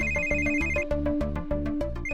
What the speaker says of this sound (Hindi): किसका फोन?